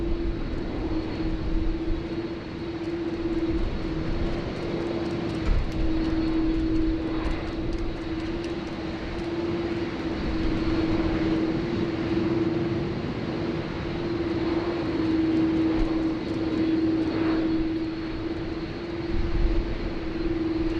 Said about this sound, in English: We've got a queue of departures happening here.